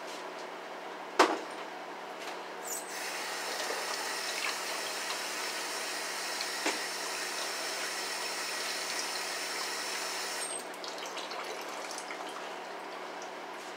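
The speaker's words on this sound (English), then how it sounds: "I will wash my hands." Tap water runs steadily into a kitchen sink as hands are washed while cooking green bean casserole, with a sharp knock near the start, then a continuous close hiss that stops abruptly near the end.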